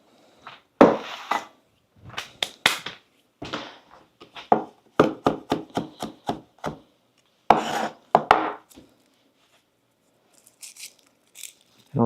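A knife minces garlic on a cutting board with quick, crisp chops. The strikes come in irregular bursts, close and moderately loud, separated by short pauses and trailing off at the end.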